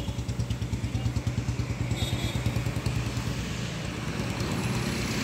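A Preet 4949 track combine harvester, loaded with maize, runs its engine: a rhythmic, pulsing diesel thrum close by, steady throughout with a faint rattle, drifting slightly smoother toward the end.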